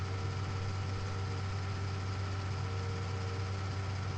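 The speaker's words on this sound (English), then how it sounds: "You actually hear the gearbox go and spin right up. Hear that whining noise?" Tractor engine in Farming Simulator 2019 runs at a steady drone, with a constant gearbox whine held above it, loud and unbroken for the whole stretch with no talk.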